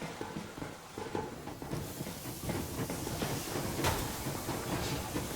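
The Yermak steam train rolling along in Metro Exodus, a steady low rumble of wheels with hissing steam and rattling carriage noise, fairly quiet and continuous with no voices.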